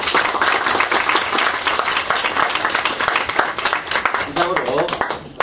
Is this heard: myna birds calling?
no